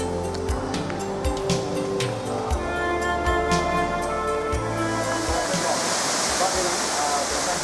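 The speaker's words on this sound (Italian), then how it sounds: "E questa è una cascata artificiale vista dal basso. Raggiunge i 60 metri d'altezza." Artificial waterfall about 60 metres high in a Singapore botanic garden pours as a steady, broad wash of falling water, heard from below amid crowd chatter and scattered clicks and knocks.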